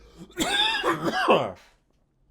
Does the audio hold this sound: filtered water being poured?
no